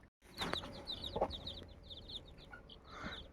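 Free-range chickens, older hens with young birds, cluck and chatter in a repeated series of short calls at moderate distance outdoors, with a brief louder squawk partway through and no voices.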